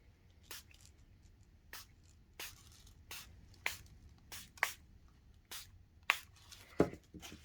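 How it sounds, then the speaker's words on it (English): Short, sharp hisses from a pump spray bottle of yellow ink, sprayed onto a junk journal page, repeat about a dozen times at a quick, uneven pace, close and fairly quiet. "Might give them just a quick spray with this yellow ink spray."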